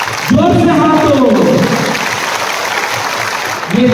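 A crowd at a community gathering claps steadily in a dense, sustained wash of applause, with bits of voice showing through near the start and again at the end.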